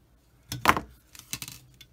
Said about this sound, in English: So now I'm going to use my handy cutters here and cut this part off.